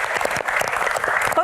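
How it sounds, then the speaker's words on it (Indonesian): A studio audience at a Q&A talk show claps briefly, dense even applause filling a short burst. "Tepuk tangan dong, teman-teman."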